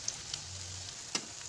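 Assamese laopolla pitha fries in a pan with a faint, soft, steady sizzle, broken by a few small ticks and pops, quiet and close with no voices.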